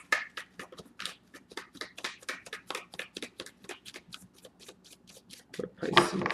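Tarot cards being shuffled by hand: a rapid, steady run of crisp riffling flicks and slaps, close and fairly quiet, ending with a brief louder handling sound.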